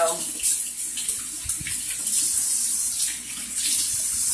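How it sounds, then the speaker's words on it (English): Tap water runs steadily into a sink while garden seeds are rinsed to wash off pulp, a continuous close splashing hiss with small shifts in flow and no voices. "I'm just rinsing to get all the nasty pulp off."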